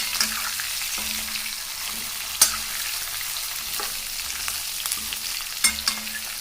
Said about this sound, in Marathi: मी सर्व वांगे टाकून घेतलेले आहेत त्यानंतर मी त्याला थोडंसं हलकंसं हलवणार आहे